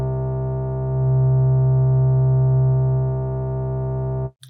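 A steady synthesizer sine wave tone holds loud and unchanging for about four seconds, swelling slightly in the middle, then cuts off abruptly into silence.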